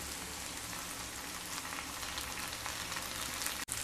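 Mung dal sautéing in a pan over low heat gives off a steady, close sizzle and crackle that runs continuously without any talking.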